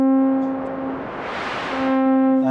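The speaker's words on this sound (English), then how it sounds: "everything you've been listening to so far is just a sawtooth going into a low pass filter" A sustained buzzy sawtooth synth tone from a Sound Workshop Wiggler V3, its brightness opening up and then closing back down as a low pass filter sweeps, steady and alone.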